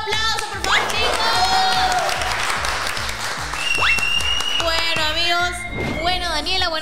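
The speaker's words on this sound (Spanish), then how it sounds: "¡Aplauso, por favor, chicos!" Applause and cheering from a studio audience of youngsters on a Spanish-language podcast, a steady loud wash of clapping and shouts with whoops throughout, music-like rhythmic thumps underneath and a voice breaking in near the end.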